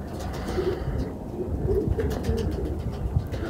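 Pigeons coo softly and repeatedly in a loft, low throaty calls overlapping in a continuous murmur, close by with no talk.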